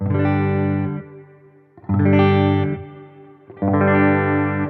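A Fender VG Stratocaster electric guitar in its humbucker setting, with effects, plays three loud strummed chords in turn, each ringing out briefly before the next, with no voices.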